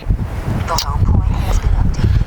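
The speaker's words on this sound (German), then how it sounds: "es ist schon windig" Strong storm gusts buffet the microphone in a continuous low roar, with gusty rumbling throughout and a faint muffled voice briefly in the mix.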